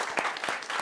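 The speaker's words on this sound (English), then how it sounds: "please give a warm round of applause to Bill." An audience applauds a guest speaker being introduced at a blockchain talk, a short burst of clapping at moderate level with no speech over it.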